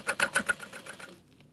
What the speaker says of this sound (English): And we are top stitching all the way.